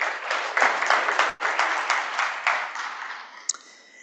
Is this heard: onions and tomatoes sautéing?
no